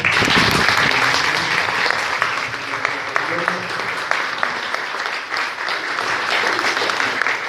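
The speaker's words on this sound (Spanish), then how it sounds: "Vamos a darles un aplauso." Applause from guests at a Spanish-language church wedding ceremony, steady dense clapping filling the whole stretch, loud and close, with a few voices mixed in.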